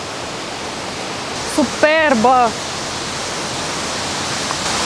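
Steady rushing roar of a powerful waterfall in a national park near Cienfuegos, Cuba, loud and constant throughout, while a woman briefly exclaims over the noise.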